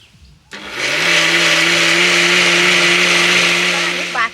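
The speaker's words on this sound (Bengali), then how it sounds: "এবার মিক্সিতে ঘুরিয়ে পেস্ট করে নেব" A kitchen mixer grinder spins up after a short quiet start and blends leaves with water into a paste, a loud, steady, high-pitched motor whine that holds to the end.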